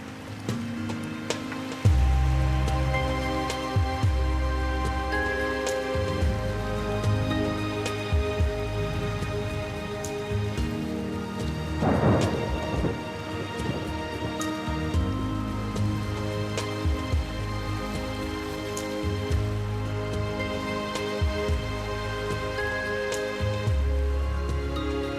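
A steady downpour falls during a tropical storm in the Bissagos Islands of West Africa. Dense, continuous rain hiss plays under a sustained musical bed, with a brief louder surge midway and no distinct thunderclap.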